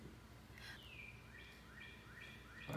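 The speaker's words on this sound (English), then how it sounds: "It's a bird in the chimney!" A bird trapped inside a house chimney chirps faintly, with a few thin, rising calls spaced about half a second apart over a steady background hiss.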